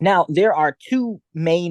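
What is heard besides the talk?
No distinct noise like a dog, phone or traffic.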